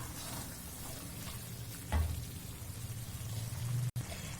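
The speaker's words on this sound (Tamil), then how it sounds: "இது கூடவே நம்ம 1/2 கப் தயிர் சேர்த்துக்கலாம்." Yogurt is added to paneer gravy simmering in a pan in a home kitchen, with a soft bubbling and sizzling hiss, a brief plop and stir, quiet and steady.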